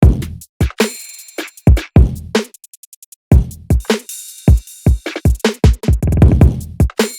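Programmed drum samples from a music production, a sequence of sharp kick, snare and hi-hat hits in a loose, syncopated pattern with short gaps, loud and dry, with a brief quieter stretch of soft ticks partway through.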